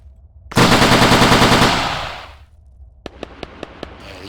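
Machine gun firing in the IFA3WarMod World War II game mod: a loud, close sustained burst of rapid automatic fire lasting about two seconds and fading out, followed by several sharp metallic clicks of ejected shells.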